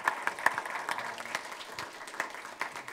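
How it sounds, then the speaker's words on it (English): A workshop audience applauds its organizer, a modest, uneven patter of clapping from a small room, with a few louder individual claps early on, fairly close and alone. "So some applause for her"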